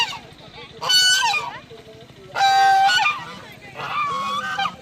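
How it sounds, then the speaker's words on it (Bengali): A goose at a bird park gives three loud, close honking calls, each lasting under a second, with short pauses between them. "এই যে হাঁস"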